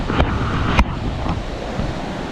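Amandaraga Falls, a waterfall in Samar, roars as a dense, steady rush of water mixed with gusty wind buffeting the microphone, close and loud throughout.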